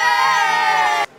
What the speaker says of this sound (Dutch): Juichen!